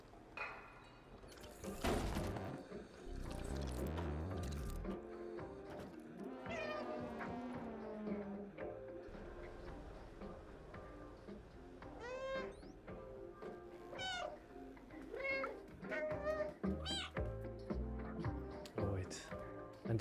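Meows from a cat in the video game Stray, heard as several short tonal cries spread through the latter half, set in a busy mix of game music and effects.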